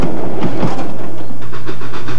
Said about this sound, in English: Hear the wail of the train whistle and the clack of the wheels